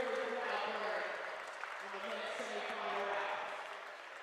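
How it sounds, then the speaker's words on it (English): Crowd roaring and cheering at the 2024 NACS lead semi-finals climbing competition in Hackensack, a loud, sustained wash of voices that swells and eases across the moment. "Hear that crowd roar."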